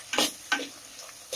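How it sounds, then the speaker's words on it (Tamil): Tomatoes sautéing in a pan for a village-style fish curry, heard as two or three brief scraping, sizzling stirs close by with quiet gaps between them, no voices. "இப்போ தக்காளி வந்து ஓரளவு நல்லா வதங்கட்டும்."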